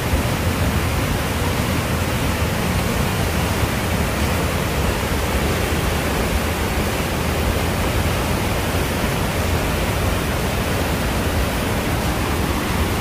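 Falls Creek Falls in Washington roars as a steady, dense rush of falling water, loud and unbroken throughout with no voices.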